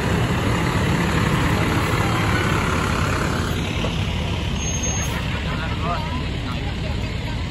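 A fire engine idles steadily and loudly close by at a parade, a constant low rumble with faint voices in the background.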